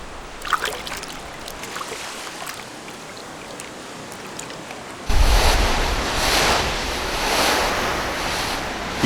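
Ocean surf surging onto a rocky Christmas Island shore, a steady wash of waves that grows louder and fuller partway through, with rushing swells and wind noise, no talking.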